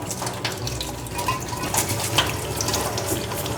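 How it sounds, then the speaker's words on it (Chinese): Tap water running steadily into a kitchen sink while a lotus root is rinsed clean, a continuous close splashing rush with no talking. "再转开大水，把它冲洗一下"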